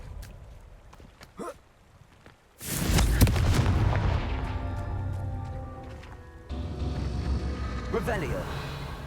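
A Confringo blasting spell in Hogwarts Legacy, heard as a sudden heavy boom that rolls into a long, loud rumbling blast, dipping and then surging again, with a voice speaking before and after.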